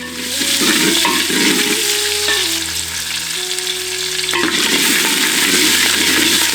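Loud, steady sizzling of onions and curry leaves frying in a hot pan, with occasional stirring scrapes and a low hum underneath.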